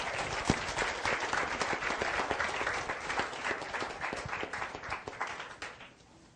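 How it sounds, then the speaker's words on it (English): A room of seminar attendees clapping together, many hands in a loud, crisp, uneven patter that holds steady for several seconds before quickly dying away. "Give yourself an applause."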